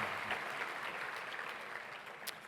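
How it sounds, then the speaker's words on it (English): An audience claps at an annual luncheon: steady, fairly faint applause with no voices, fading slightly toward the end. "let's give a big round of applause again"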